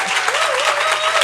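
Studio audience applause for cake entrepreneur Marisa Lazo, a short steady wash of clapping with a faint tonal line running beneath.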